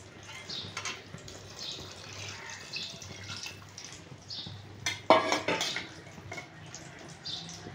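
Water poured into a pressure cooker of potatoes for aloo posto, a close running trickle and splash with a louder gush midway, along with faint clinks from the pot.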